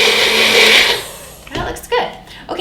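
A kitchen blender whirs loudly for about a second mixing a thick honey chai concentrate, then winds down into quieter clattering and rustling handling sounds.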